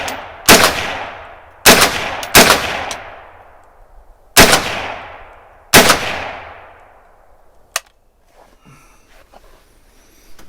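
A Savage A22 .22 Magnum rifle fires 40-grain rounds in five loud, sharp shots at uneven intervals, each with a ringing outdoor decay, followed by a faint metallic click.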